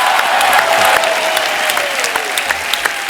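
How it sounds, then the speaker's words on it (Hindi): A studio audience on a comedy show breaks into loud, dense applause that holds steady for a few seconds, with faint voices and a tonal sweep threading underneath. "पहले तो जोरदार तालियां"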